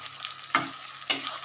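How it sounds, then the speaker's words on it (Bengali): Potatoes and onions fry together in a pan, giving a soft steady sizzle with two sharp scraping stirs of a spatula about half a second apart. "এবার আলু আর পেঁয়াজটাকে একসাথে কষাচ্ছি দেখো পেঁয়াজগুলো যতক্ষণ একটু আলুগুলো তো সুন্দর ভাজা হচ্ছে"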